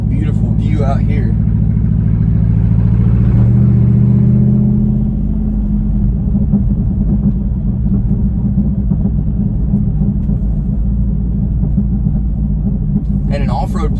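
Jeep Wrangler Rubicon 392 V8 cruising downhill in snow, a steady low engine rumble that swells briefly early on, then settles into a continuous deep drone with road noise throughout.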